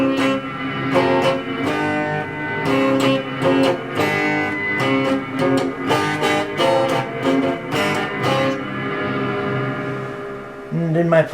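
Electric guitar run through a compressor, sustainer and reverb, playing a steady stream of picked notes and chords with long ringing tails and a washy ambience, alone with no talk.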